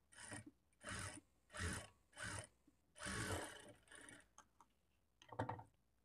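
A sewing machine runs close by, stitching the lining cloth of a blouse in a series of short bursts with brief pauses between them, then a longer run followed by a few lighter taps, with no talking.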